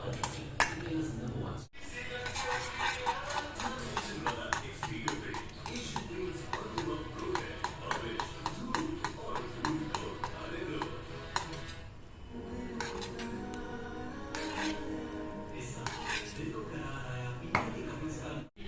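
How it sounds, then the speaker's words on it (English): Sarson ka saag (mustard greens) stirred and mashed in a pot with a metal utensil: repeated close clinks and scrapes against the pot in an irregular rhythm, with faint voice-like sound underneath. "Now I'll add this to the saag and keep on stirring it with this so that it grinds nicely and becomes softer"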